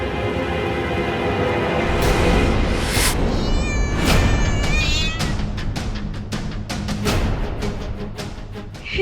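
Cat yowling and meowing in a dramatic TV serial scene, a loud drawn-out cry in the middle followed by a burst of sharp clicking hits over a dense, loud background.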